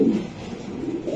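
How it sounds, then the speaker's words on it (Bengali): A white tracer female racing pigeon gives a brief, low rolling coo up close, soft and muffled over a quiet background. "একটা হোয়াইট ট্রেসার একটা মাদি কবুতর, এই যে হোয়াইট ট্রেসার"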